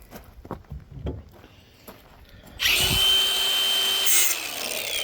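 Sawzall reciprocating saw cutting metal on a 2014 Ram during a cat delete, a loud, steady buzzing rasp that starts abruptly after quiet clanks and lasts to the end.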